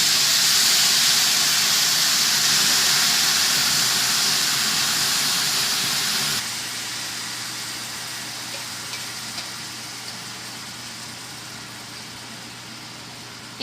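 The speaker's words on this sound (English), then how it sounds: "take our beef and we're going to pull it out of our marinade. Let some of that go and put it into a nice hot skillet." Marinated thin-sliced beef sizzles in a hot skillet, a loud broad crackling hiss that drops to a quieter steady sizzle partway through, with no talk.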